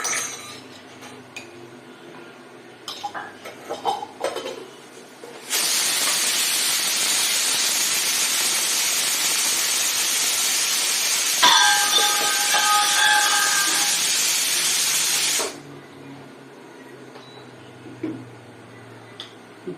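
Hot oil in a pan gives a loud, steady broadband sizzle that starts abruptly and holds for about ten seconds, with faint clinks partway through, then cuts off; quieter kitchen noise before and after.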